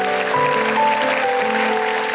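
A church congregation claps together in a dense, continuous wash of applause, with faint tonal sounds lingering in the background.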